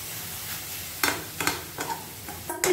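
Grated carrot for carrot halwa cooks in a pan, a soft steady sizzle broken by several louder scraping stirs of a spoon against the pan.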